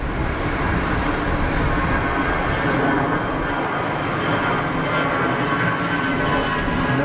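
An easyJet airliner departing Geneva Airport produces a loud, continuous engine roar that fills the whole stretch with broadband noise, steady and close with no voices.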